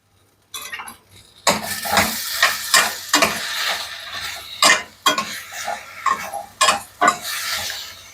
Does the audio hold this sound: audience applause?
no